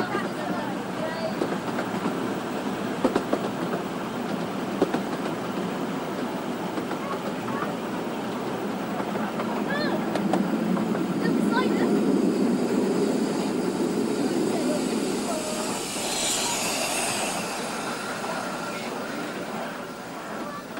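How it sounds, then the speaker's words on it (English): A Romney, Hythe and Dymchurch Railway train runs along a nearly straight stretch of line across the marsh, a steady rumbling roll with rhythmic wheel clatter and a brief high squeal, swelling as it passes, under a narrator's voice. "From Dymchurch, the railway takes a nearly straight course to the next station at Jefferstone Lane."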